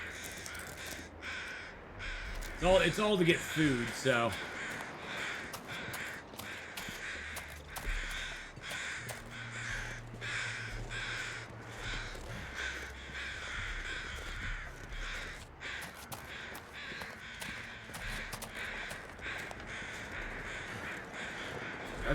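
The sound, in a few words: crows cawing in the video game The Long Dark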